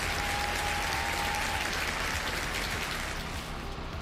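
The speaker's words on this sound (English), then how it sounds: "Big ol' round of applause for Danielle." Studio-style applause, a dense steady patter of many hands clapping at even loudness for about four seconds, tapering slightly at the end, played as a sound effect during a Farming Simulator 22 livestream.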